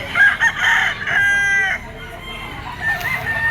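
A yellow-legged gamecock rooster of a sweater line, three years old, crows loudly and close with a long strained call, followed by a shorter, weaker crowing tail.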